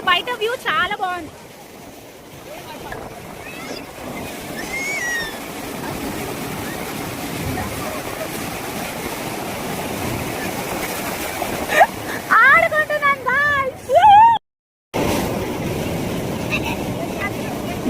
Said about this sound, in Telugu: చూడండి ఒకటేసారి వాటర్ ఫ్లో, అన్ని అలలు వస్తున్నాయి పెద్దగా